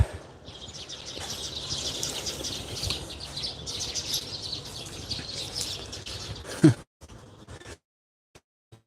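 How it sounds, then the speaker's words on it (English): Small birds chirp and twitter steadily outdoors at a moderate distance, a busy layered chorus that cuts off near the end, leaving near silence. "The birds are really active over there."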